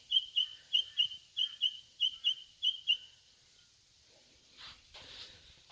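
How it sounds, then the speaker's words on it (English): A bird sings outdoors on a mountain gorge trail, giving about a dozen bright, high chirps in quick paired bursts for three seconds, fairly close and clear, followed by quieter scuffing noise. "Listen to that bird."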